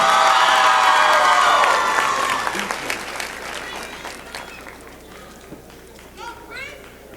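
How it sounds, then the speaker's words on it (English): A high school basketball championship crowd applauds loudly at first, then the clapping gradually thins and fades, with scattered cheers and voices beneath it. "let's have one huge round of applause"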